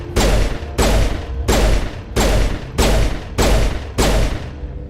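Seven evenly spaced, heavy pistol shots from the Stiletto in Mass Effect, each a loud crack with a decaying tail, fired at a slow, steady rhythm.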